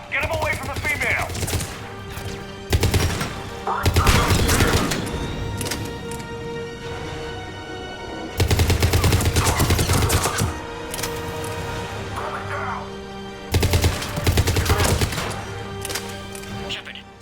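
Gunfire in Mass Effect 3 arrives in several loud bursts of rapid automatic shots, separated by quieter stretches, close and punchy, with voices speaking between the volleys.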